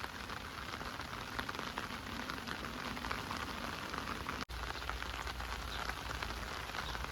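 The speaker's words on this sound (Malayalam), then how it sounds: "നന്നായിട്ട് മഴ കൂടിയിട്ടോ, നല്ല മഴയായി ഇപ്പോൾ." Heavy rain pours down steadily outdoors, a dense, even hiss of drops on surfaces that continues without pause apart from one momentary break.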